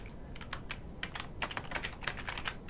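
Quick bursts of clicking keystrokes on a computer keyboard, a short run of typing heard close and fairly quiet, with no talk over it.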